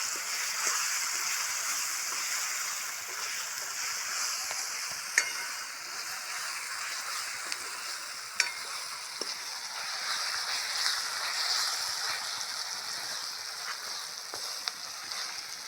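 Onion, tomato and green chilli fry in hot oil, giving a soft, continuous sizzle with occasional faint pops and stirring clicks, steady and moderately close with no talking.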